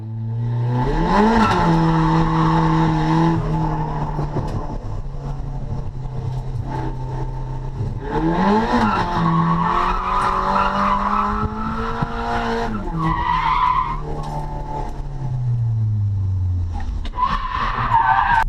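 A car engine revs hard while tires squeal in long sliding bursts, drifting through corners at a track drift day with clutch kicks; loud and close, with pitch rising and falling.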